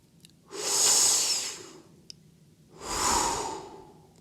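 Two slow, deep breaths are taken close up as a belly-breathing exercise for saxophone playing, each one a long airy rush with a quiet pause between them.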